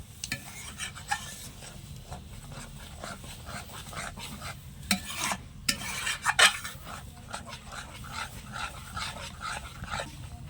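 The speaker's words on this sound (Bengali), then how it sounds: "আর সাথে দিয়ে দিচ্ছি সামান্য পরিমাণ জল। এবার আমি এটা ভালো করে নেড়ে দেব।" A yogurt mixture with a little water is stirred in a pan for a broccoli dish, the spoon scraping and clinking softly in steady, uneven strokes close by, with a few sharper taps partway through.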